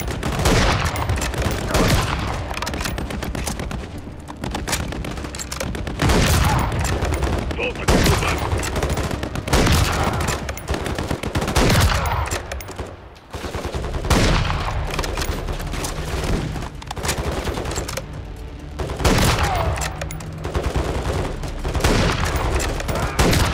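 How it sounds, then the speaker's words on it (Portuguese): Sustained gunfire in Call of Duty: Modern Warfare 3, with dense bursts of automatic weapons and booming shots rattling almost continuously for the whole stretch. A brief lull comes midway before the firing resumes, and voices talk faintly beneath it. "Continuem atirando."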